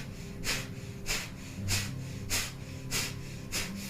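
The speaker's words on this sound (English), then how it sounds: "we're going to start with breath of fire, like panting like a dog." Rapid breath of fire breathing from a Kundalini yoga session, panting-like: forceful, evenly spaced huffs repeat about every half second, close and clear with no talking over them.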